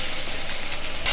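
Washed red lentils fry with cumin seeds in oil in a pan, giving a steady, dense, close sizzle that hisses without a break.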